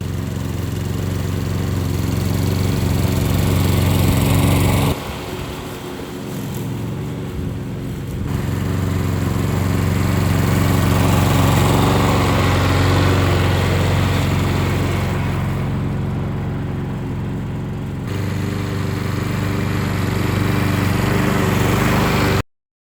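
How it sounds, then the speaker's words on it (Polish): A SABO lawn mower runs steadily while cutting grass, a loud continuous engine drone with a constant pitch that dips briefly and then swells back, running alone with no talk. "zakładam kosz i możemy tym sabos również startować, całą trawę skosić"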